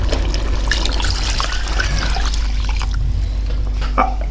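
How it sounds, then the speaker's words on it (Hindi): Water pours steadily into a cooking pot of chicken rajma pulao with rice, a continuous close trickling and splashing stream with no talk over it. "पानी का ऐड कर रहा हूँ।"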